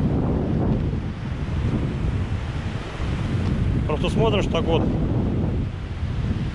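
Ocean waves and strong wind on the coast of Conakry, Guinea, a steady loud roar with heavy wind buffeting the microphone. Someone speaks briefly over it midway.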